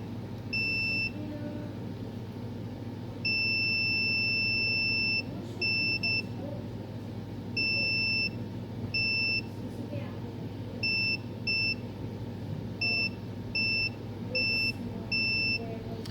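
A multimeter beeps while testing capacitors for a short: repeated steady electronic tones in short and long bursts, clear over a low hum.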